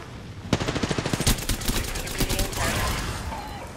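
Automatic gunfire in Apex Legends, a rapid burst of shots about a second long followed by more scattered shots, loud and close, with a voice speaking briefly over the game audio.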